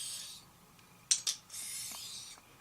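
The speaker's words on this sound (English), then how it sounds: "the first stone is Naniva Cesera 1000 grit" A straight razor is honed on a Naniwa Chosera 1000 grit whetstone, giving two quick, close scrapes followed by one longer, steady rasping stroke. The strokes are fairly quiet, with no talking.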